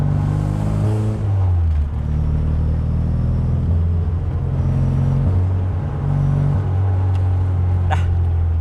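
A Honda Civic SR3 with a B18C engine rolls over a speed bump, its low engine drone rising and falling as the revs shift, with a brief thump near the end.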